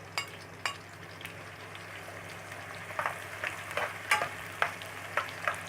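Onions frying in hot oil for bessara give a continuous close sizzle, broken by repeated scraping and knocking as they are stirred, growing busier toward the end.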